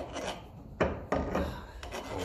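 Sandpaper rubbing a burr off a Lucas dynamo part from a 1954 Ferguson 20 TEF diesel tractor, a few short close raspy strokes, quiet and alone.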